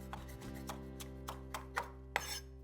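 Parsley being finely chopped with a knife on a cutting board for crab cakes, a run of sharp, irregular knife strikes close by with no talking.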